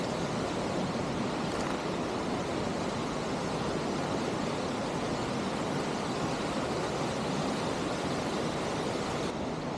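Waterfall in the Jaintia Hills, a constant broadband roar of falling water, steady and full with no pauses, loud and close with no voices.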